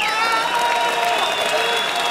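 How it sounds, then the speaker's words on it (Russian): A crowd at a fight-night event applauds in a continuous wash of sound under loud, sustained tonal music, with some voices mixed in. "конечно, ваши аплодисменты"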